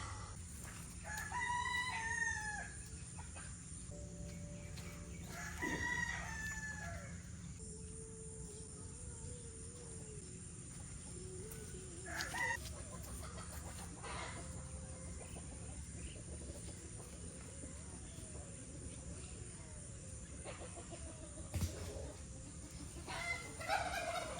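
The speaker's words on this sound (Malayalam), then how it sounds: "ഇനി ഇത് കോഴികൾക്ക് കൊടുക്കാം" Chickens cluck on and off near and far, a rooster crows a couple of times, and crickets chirp steadily outdoors.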